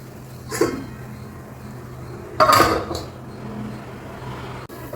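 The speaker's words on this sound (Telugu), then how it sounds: "ఒక్క నిమిషం మనం మూత పెట్టేద్దాం" A lid set onto a pan of upma cooking with milk and ghee gives two short clattering knocks, the second louder, over a steady low kitchen hum.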